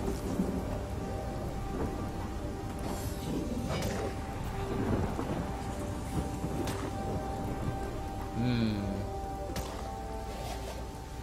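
A rain spell with thunder in Divinity: Original Sin: steady rainfall hissing on surfaces with low rolling thunder, plus brief game effect tones, fairly loud and continuous throughout.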